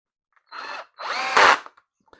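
A power drill drives screws during reassembly of a metal detector, two short whirring bursts close by, the second longer and rising in strain before stopping.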